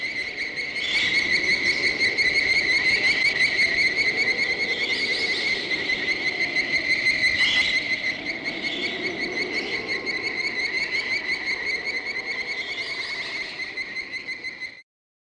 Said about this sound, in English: The distinct whistling sound that is heard in the movie was created by multiple bird sounds,